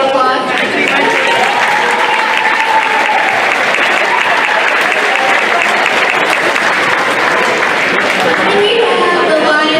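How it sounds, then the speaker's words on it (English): Loud, sustained applause from a crowd at a high school boys basketball game, thanking donors, with dense clapping throughout and some voices mixed in. "Give a round of applause"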